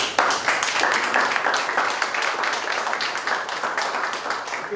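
Crowd applause at a town hall community meeting for the police officers standing there, a dense, steady clatter of many hands clapping that continues evenly throughout without talk.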